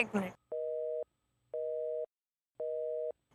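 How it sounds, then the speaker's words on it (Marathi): A tonal electronic phone tone sounds three times in even, steady bursts separated by short silences, after a brief moment of voice at the start. "मला पण ऋतूचा फोन येतोय"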